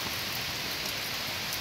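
Heavy rain pours steadily in South Carolina, a loud, unbroken hiss of falling water with no other sounds breaking through.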